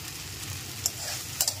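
Water spinach (kalmi shak) frying in a pan over a gas flame gives a steady close sizzle, with a couple of sharp clicks of a utensil against the pan.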